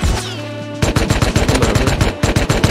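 Automatic turret machine gun fire in the survival game Rust, a rapid run of loud, close bursts that starts abruptly after a quieter tonal stretch and keeps a steady stuttering rhythm to the end.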